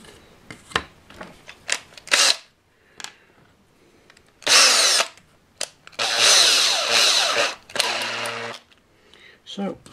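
Small drill boring 3mm and 4mm holes in a model rose window for an OO gauge station, heard as short whirring bursts of varying length separated by quiet pauses and faint handling clicks.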